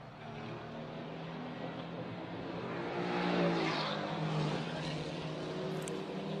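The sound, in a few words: Mercedes GT race car engine on the Macau circuit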